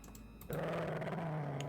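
A dog growls low and steady in the PC DOS game Police Quest IV: Open Season, starting abruptly after a brief quiet lead-in and then holding a sustained, close rumble with no talk.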